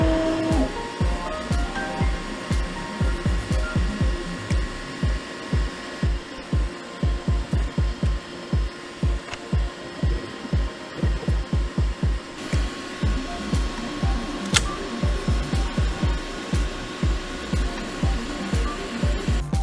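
A 3D printer at work with an EIBOS Easdry filament dryer box running beside it, a steady fan hum under a rapid, regular stream of stepper-motor pulses and buzzes, close and continuous with no talking.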